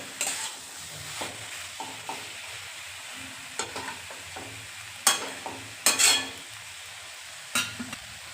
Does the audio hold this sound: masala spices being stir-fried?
yes